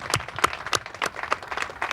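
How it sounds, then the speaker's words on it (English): Crowd applause at a groundbreaking ceremony for the Woodmont Industrial warehouse construction site in Woodbridge, scattered individual claps at moderate distance, fairly light and uneven. "I think that's a big round of applause"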